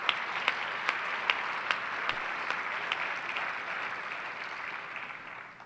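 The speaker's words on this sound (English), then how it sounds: "Let's give them another round of applause." Audience applause fills a school district address, a broad steady patter of many hands with a few sharper claps standing out early, then tapering slightly toward the end.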